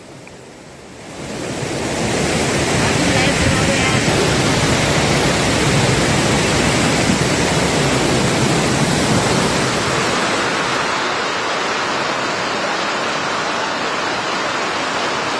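Floodwater from a cloudburst roars through a newly formed stream in a Uttarakhand village after the Yamuna river changed course. A loud, continuous rushing roar swells within the first two seconds and holds steady, with no voices.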